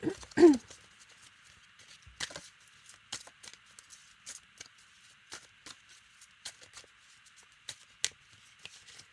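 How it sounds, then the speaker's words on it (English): Light papery flicks and soft taps come in irregular bursts, like cards being shuffled and handled close by, with a short voiced sound near the start. "I'll just shuffle the deck, see what it is"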